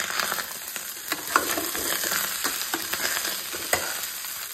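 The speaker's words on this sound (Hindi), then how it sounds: "बस थोड़ा सा देसी घी डाला और उसमें चावल डाल दिए" Rice fries in desi ghee in a village kitchen in Himachal, a steady close sizzle with occasional stirring scrapes and pops, no voices.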